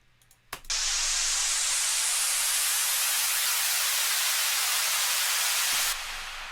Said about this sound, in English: Then I have all the white noise like risers.